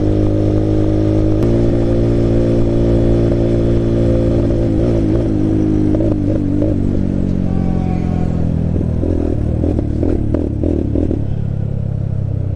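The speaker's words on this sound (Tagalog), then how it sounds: "napapatay yung makina" A motorcycle engine runs at a steady, loud idle with a rough, uneven beat, then sputters and falters toward the end as it stalls, with no voices.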